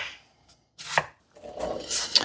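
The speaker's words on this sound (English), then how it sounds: "I'm going to get this onion cut up" Knife chopping an onion on a cutting board, a few sharp close knocks followed by a quicker run of cuts, with no talking.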